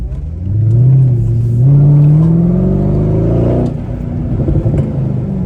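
Mercedes-Benz ML63 AMG engine revving and accelerating, a loud deep growl climbing in pitch through a long pull, then settling into a low burbling rumble.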